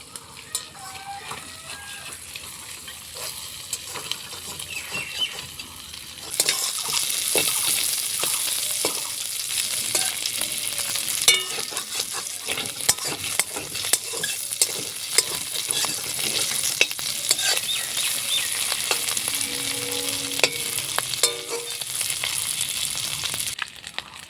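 Shrimp dropped into hot oil: a quiet stretch gives way to a sudden loud, sustained sizzle with crackling pops and stirring, close up and steady to the end.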